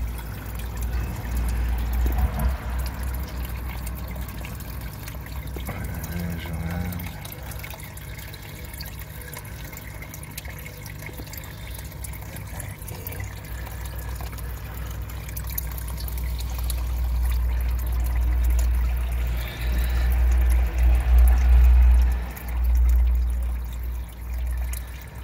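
Water pours and trickles steadily while the water is being changed, a continuous near splashing flow that swells louder toward the end, with no talking.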